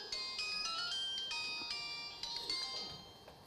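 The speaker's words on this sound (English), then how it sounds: "oh, somebody's phone." A mobile phone ringtone goes off among the audience at a budget roadshow in Lautoka, Fiji, a bright, repeating electronic melody of high tones sounding steadily throughout at moderate volume over faint room noise.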